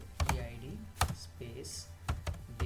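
Scattered keystrokes on a computer keyboard enter SQL into an Oracle database, a few taps clustered together, close and under a voice explaining as he types.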